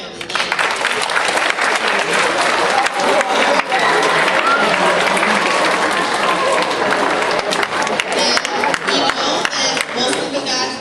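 A school assembly audience for Martin Luther King Jr. Day claps hands to vote, a loud, dense burst of applause sustained for about ten seconds with some crowd noise mixed in.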